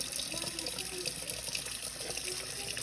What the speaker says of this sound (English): I typically like to rinse vegetables out of a can until the water becomes clear